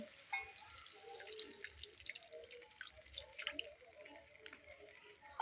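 A small amount of water is poured into mung dal in a cooking pot, giving soft, faint trickling and dripping sounds with light splashes over a quiet background.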